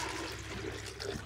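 Steady rush of water gushing out continuously at close range, loud and unbroken with no voices.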